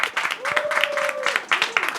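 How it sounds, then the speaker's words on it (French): A television talent show audience applauds an Ivorian rap duo, with choppy bursts of clapping and a tonal whistle or cheer over the top. "On les applaudit bien fort"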